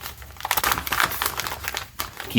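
Butcher paper wrapped tightly around a smoked brisket crinkles and crackles continuously up close as it is pressed and taped shut, with a few sharper rustles near the end.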